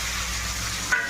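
Dried red chilli and spices fry in hot oil while being mixed, a brief close sizzling hiss with a small scrape near the end.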